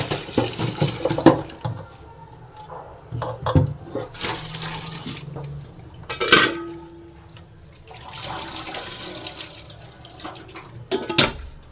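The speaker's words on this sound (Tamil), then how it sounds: "அப்படியே தண்ணி சூடாக இருக்குது அப்படியே வடிகட்டிடலாம்" Hot water drains from boiled cauliflower in a kitchen, heard as intermittent splashing and pouring bursts with brief clatters in between and quieter gaps, close to the microphone.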